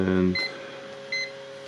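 A multimeter on continuity test beeps at a corroded switch from a Stiga grass trimmer, giving two short tones, the second after a pause, while a low hum runs beneath and talk fades at the start.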